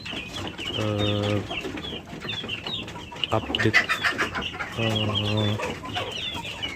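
Free-range village chickens cluck and croon close by in repeated bursts, with other birds chirping in the background and a brief spoken word.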